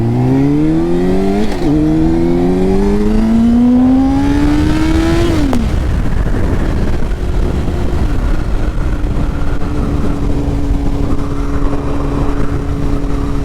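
A 2004 Triumph Daytona 600 motorcycle engine revs up sharply through climbing gears on a test ride, with a quick shift before the pitch drops back to a steadier cruising drone under constant wind noise.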